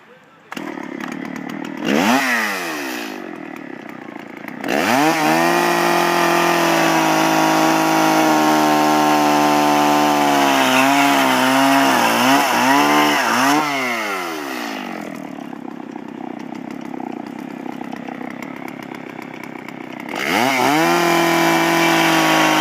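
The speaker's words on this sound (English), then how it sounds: "bear with me on the chainsaw noise" A chainsaw cuts through a locust wood fence rail, its engine roaring loud and close in long sustained bursts, with brief idle dips and pauses between cuts.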